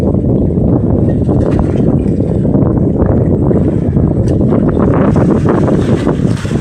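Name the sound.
big sea waves and wind on a fishing boat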